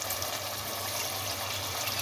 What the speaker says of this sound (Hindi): ये 2 गिलास यखनी इसके अंदर डाल दें